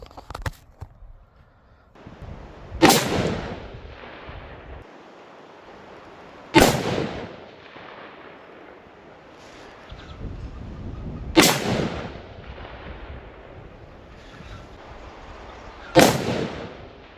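Four sharp rifle shots fired at a target with Norma match ammunition, spaced about four seconds apart, each a loud close crack with a rolling echo tail, no talking.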